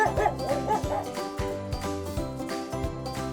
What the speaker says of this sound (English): That's right, it's a dog.